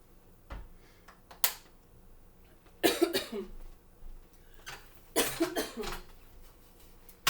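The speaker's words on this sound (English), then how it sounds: "Sorry for coughing up my water in my lungs." Someone coughing after choking on water during a gentle home exercise class for seniors: a few small clicks, then two close, harsh coughing fits a couple of seconds apart, each breaking into several rapid coughs.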